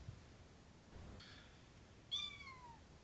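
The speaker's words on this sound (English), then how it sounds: "That perfectly timed kitten." A kitten gives one short, high, falling meow, preceded by a fainter mew, heard faintly against a quiet hissy background.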